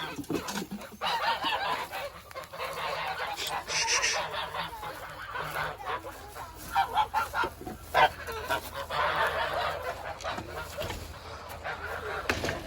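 Geese in a farm pen honk repeatedly and noisily, overlapping calls rising and falling close by, with an occasional thump or slam in between.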